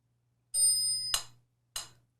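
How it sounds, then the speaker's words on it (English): A metronome's little bell rings on the first beat of the bar, a bright sustained chime followed by two crisp, close clicks at an even pace, alone with no other sound. "I've set it so there's a little bell ringing on the first beat of each bar."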